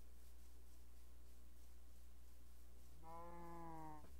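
Cow mooing in the Minecraft video game: one drawn-out, wavering low moo near the end over a quiet, steady background hum, faint and without talk.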